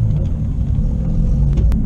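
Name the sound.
C5 Corvette accelerating on a drag strip run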